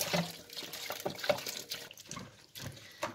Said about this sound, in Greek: θα προσθέσω κι άλλο νερό.